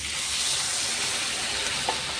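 Water hits hot frying curry for luchi tarkari in a pan and gives a steady, close broadband hiss that holds evenly throughout, with no talking.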